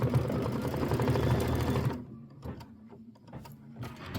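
An embroidery machine stitching fastener placement lines on a quilting wreath hoop block, a rapid mechanical chatter for about two seconds, then sparse clicks and short bursts as it moves, close and clear.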